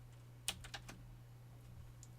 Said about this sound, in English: I'm like typing in the wrong thing.